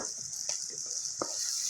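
Fried potatoes with sugar being stirred in a pan for a Bengali katla fish curry: a constant high sizzle with three short scraping strokes of a spoon spaced about a second apart.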